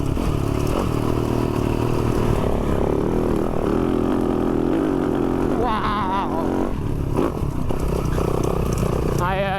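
A Yamaha Tenere 700 adventure motorcycle ridden on an off-road trail, its engine droning loudly and continuously up close, with clattering and brief rising throttle swells.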